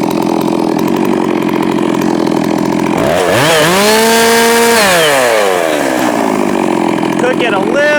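A Neotec 892 Stihl clone chainsaw runs loud and close during a test after assembly and tuning, its engine revving up and dropping back in a sweeping rise and fall over steady buzzing.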